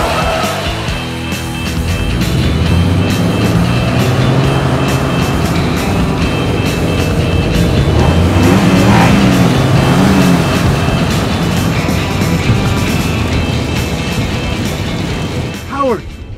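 A car engine roars steadily through a car chase, loud and close, with a passing surge near the end.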